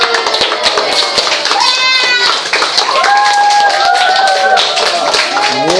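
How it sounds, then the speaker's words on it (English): A class of 7C students clapping and cheering in a classroom, a dense burst of handclaps mixed with excited children's voices and whoops, loud and close throughout. "The crowd goes crazy."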